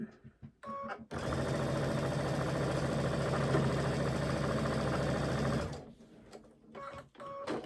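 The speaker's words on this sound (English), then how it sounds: "Now I'm going to take 2 of these units and a center unit and sew that" A sewing machine stitches quilt units together for a Christmas wall hanging, running in one continuous, steady burst of several seconds. Quieter handling noises come before and after the run.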